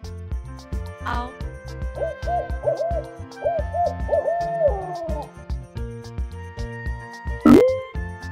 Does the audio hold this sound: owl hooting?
yes